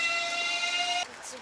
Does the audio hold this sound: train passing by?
yes